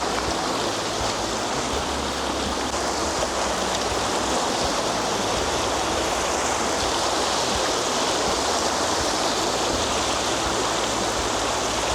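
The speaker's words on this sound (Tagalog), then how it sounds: "So ito na yung tubig." A mountain stream on the trail at Mount Pinatubo rushes in a steady, dense wash of water noise that fills the whole stretch evenly, close and unbroken, with no voices.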